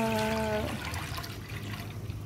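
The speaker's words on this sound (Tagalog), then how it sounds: "At, ayan, ibubuhos na natin ang ating gata." Coconut milk pours into a cooking pot holding squid, a close liquid splashing and gurgling that runs throughout, with a brief tonal hum at the start.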